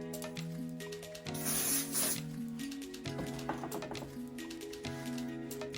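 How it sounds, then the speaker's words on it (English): Holding spray hisses from a can onto hair during a wig install, one loud spray burst of about a second over quiet background music. "Use some type of holding spray on top."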